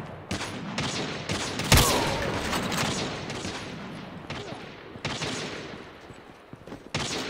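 Gunfire from a video game comes in continuous bursts of rapid shots, with a sharp, loud crack near the two-second mark and dense firing that drops off and resumes.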